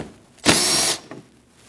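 A power tool removing 8mm bolts in the inner wheel well of a 2014-2023 Jeep Cherokee: one short, loud whirring burst of about half a second, then a faint brief tail, with no talk.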